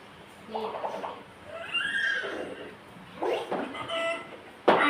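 A voice imitates a rooster crowing, with several drawn-out calls and bursts in an indoor preschool setting, mixed with other voices nearby.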